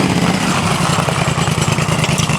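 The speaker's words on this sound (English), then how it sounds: "Triumph bike coming in there" A Triumph motorcycle rolls into a small English village, its engine a loud, steady rumbling burble heard close, with no voices.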